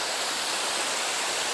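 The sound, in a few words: little waterfall flowing into a hole, Somersby Falls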